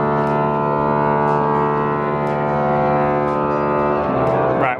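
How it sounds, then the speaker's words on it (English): Bath Abbey's church pipe organ being retuned inside the abbey, a long sustained droning chord of held tones that hums steadily and loudly for several seconds, with faint pulses and a shift near the end. "we're in the Abbey and they're actually retuning the organ, which is what that noise is"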